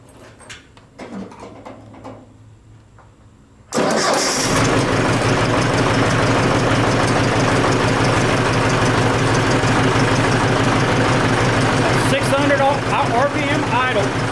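A Ford 861 diesel tractor engine, on a 1964-era Ford farm setup, cranks and catches abruptly after a quiet stretch with a voice, then settles into a loud, steady, close idle that runs to the end.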